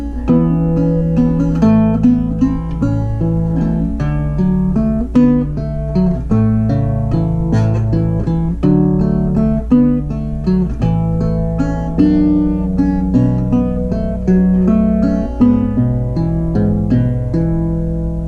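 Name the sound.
fingerstyle guitar playing first section of a tune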